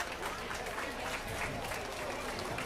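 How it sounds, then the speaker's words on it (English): A crowd at a youth swine market show gives a round of applause, a dense, moderately distant patter of clapping that holds steady throughout. "let's give both those young ladies a round of applause"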